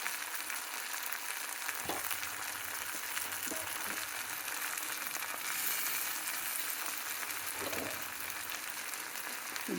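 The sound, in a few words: onions frying in a pan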